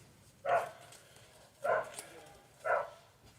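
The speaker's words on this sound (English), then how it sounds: "That's not my dog." A dog barks three times at a steady, spaced rhythm, each bark short and fairly loud, heard at moderate distance against a quiet background.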